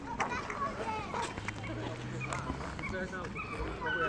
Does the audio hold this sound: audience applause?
no